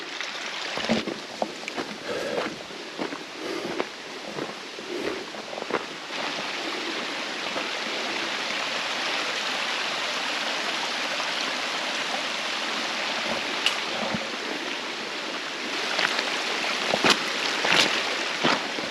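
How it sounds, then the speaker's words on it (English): A mountain stream running full of water beside an overgrown summer backpacking trail gives a steady, close rushing and splashing that continues without a break, with no speech. "Plenty of water flowing today."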